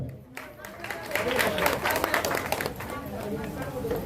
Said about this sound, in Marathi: आणि प्रत्येकाने टाळ्या वाजायच्या.